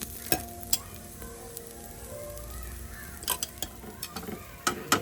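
Hot oil hissing and sizzling on a frying dosa topped with onion, a steady low crackle with a few sharp clicks of a spatula or ladle against the pan.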